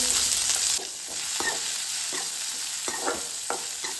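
Onion fries in oil that has been tempered with crackling spices, producing a steady, close sizzle punctuated by rhythmic spatula scrapes and stirs against the pan.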